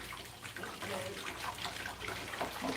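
Water runs from a tap in a steady, splashy rush, close by and fairly loud. It continues without a break, and a voice may be faintly present underneath.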